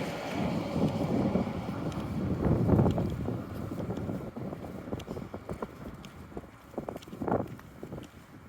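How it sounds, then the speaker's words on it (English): Gusty wind buffets a microphone outdoors while walking through a North End neighbourhood, with loud rumbling swells early on easing to intermittent bursts and light footsteps beneath. "Sometimes it's hard to stay out of the wind."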